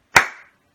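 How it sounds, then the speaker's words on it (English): A single sharp hand clap marks one quarter note, close and loud with a quick decay, standing alone in silence. "On the count of 3, I want you to clap me a quarter note."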